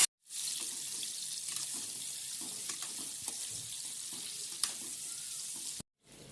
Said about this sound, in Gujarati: આપણા સરગવાને સરસ રીતના તેલમાં કકડવા દઈશું થોડીક વાર